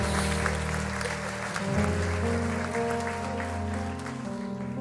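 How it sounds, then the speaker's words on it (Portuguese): Church congregation giving a round of applause for two fathers, steady clapping over held keyboard chords, moderately loud and unbroken for the whole stretch. "Uma salva de palmas para os 2 pais aí"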